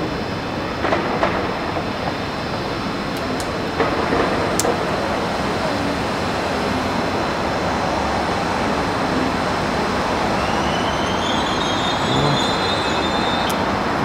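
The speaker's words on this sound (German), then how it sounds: "Regionalzug wird wieder weiter." A regional train passes through a station at Engen or Singen, a loud, continuous rolling rumble with rattling wheels and a rising high squeal, while voices murmur faintly in the background.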